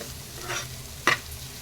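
Egg podimas frying in a pan on a stove over full flame, a soft faint sizzle with a couple of brief scraping stirs, one sharper scrape standing out near the end.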